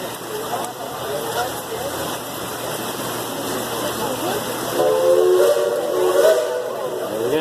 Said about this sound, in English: Those 2 whistles you just heard tell us that our engineer has received our all clear